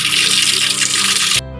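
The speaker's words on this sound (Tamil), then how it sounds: "இதெல்லாம் வந்து ஃபில்டர் ஆகி நல்ல தண்ணி மட்டும் இந்த பைப் வழியாக ஆற்று தண்ணி தொட்டிக்கு போயிடும்" In a rainwater harvesting setup, water rushes through a filter pipe into a tank with a steady close splashing flow that stops abruptly near the end and leaves a faint hum.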